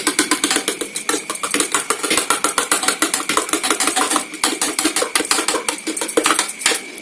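Salted food mixed by hand in a heavy bowl, a fast rhythmic series of clattering, scraping knocks repeating steadily and loudly throughout.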